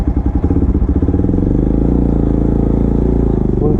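A motorcycle engine runs close and loud, its exhaust thumping in quick pulses before settling into a steady, sustained rev.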